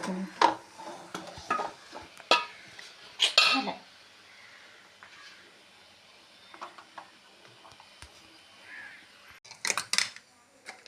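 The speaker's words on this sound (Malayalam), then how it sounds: "നല്ലോണം മിക്സ് ആക്കി എടുക്കണം" A spoon scrapes and clinks against a pot as Kerala sadya-style koottucurry is stirred, in several separate bursts of close scraping with quieter gaps between, and no talking.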